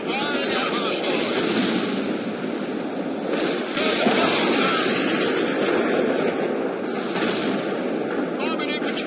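An armored transport fires at hostiles in the war strategy game World in Conflict: a dense roar of battle with booming shots and rumbling engines, a radio voice cutting in over the noise.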